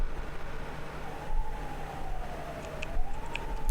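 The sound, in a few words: sirens in PC-98 video game E.V.O. The Theory of Evolution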